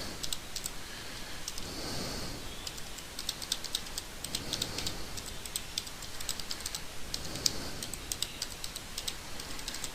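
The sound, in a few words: typing a website address on a computer keyboard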